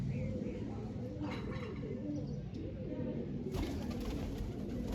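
Pigeons coo in a low, repeated bubbling rhythm, with a colourful pigeon among them, steady and fairly close throughout, with a brief brighter rustle or flutter near the end.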